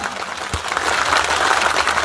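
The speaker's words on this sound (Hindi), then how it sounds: "उनके लिए जोरदार तालियां।" A crowd at a political rally in Gagariya village claps for a newly joined party member, the applause swelling after a brief thump and continuing as a steady, dense patter of many hands.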